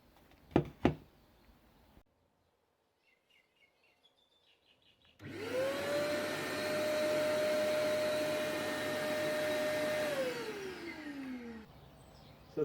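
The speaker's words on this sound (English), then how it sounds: "I'm way over here and I can turn the vacuum on" A shop vac is switched on remotely: quiet room at first, then the motor spins up into a loud steady roar that holds for several seconds before winding down, its pitch gliding lower.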